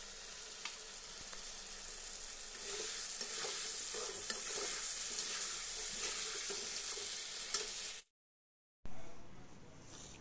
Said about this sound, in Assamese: এতিয়া মাংস আৰু আলুখিনি অকণমান সিজালৈকে ভাজি লওঁ